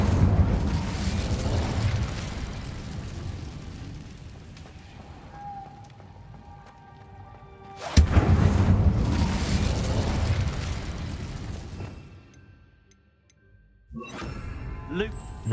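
An Incendio fire spell bursts in Hogwarts Legacy with a loud fiery whoosh and crackling roar that fades over several seconds. A second blast follows, then a brief burst after a short lull.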